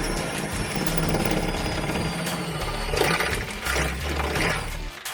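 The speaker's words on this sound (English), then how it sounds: "Some holes could be drilled through the rail underneath the car." A power drill grinds steadily through a Mazda Miata's metal frame rail, a continuous whining, rumbling buzz that holds for several seconds, close and loud.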